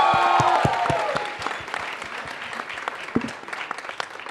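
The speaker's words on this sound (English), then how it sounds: "Please give her a round of applause." Audience applause at a Delhi Belly fan meet fills the room, a dense burst of clapping that starts strong and gradually thins and fades over a few seconds, with scattered individual claps lingering at the end.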